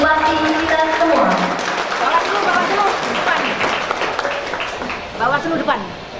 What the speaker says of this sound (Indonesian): Beri tepuk tangan yang meriah untuk Bupati kita semua.